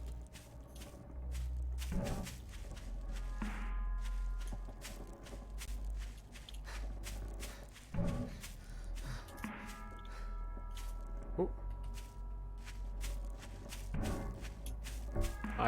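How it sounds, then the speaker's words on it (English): Zombie footsteps in the survival game 7 Days to Die, scattered and faint, shuffling thuds and taps spread irregularly over a low rumbling background. "I heard footsteps."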